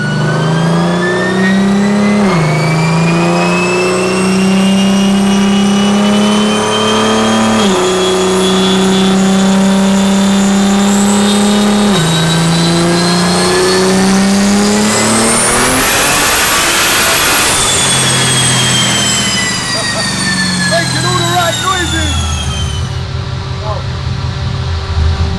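A heavily tuned turbocharged BMW making around 1,600 horsepower accelerates hard, its loud engine note climbing, dropping at gear shifts, then rising to a screaming peak before backing off, with voices heard over it.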